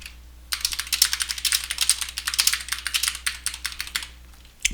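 A passphrase is typed on a computer keyboard in quick, steady keystrokes, a close run of crisp clicks lasting several seconds over a faint low hum.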